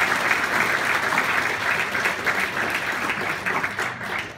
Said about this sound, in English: Give her a great big round of applause.